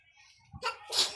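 A single sharp sneeze bursts out at the end after a quick breathy intake, close and fairly loud against a quiet background.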